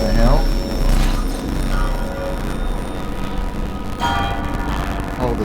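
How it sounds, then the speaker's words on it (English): A bell tolls in the video game Death Stranding, ringing out over a dense, rumbling game soundscape with several strong strikes, while a person speaks and reacts over it. "Oh, the bell."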